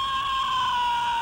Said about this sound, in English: This is the Screaming Kevin doll from the movie.